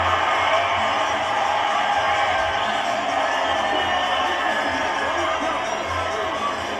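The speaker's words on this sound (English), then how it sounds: "The crowd's loving it at the MGM Grand Garden Arena" A large boxing crowd at the MGM Grand Garden Arena in Las Vegas roars and cheers steadily throughout, a dense, loud wall of voices with commentary mixed beneath it.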